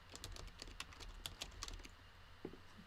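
Rapid typing on a computer keyboard, a quick irregular run of light key clicks close to the microphone with a steady background hum, no talking.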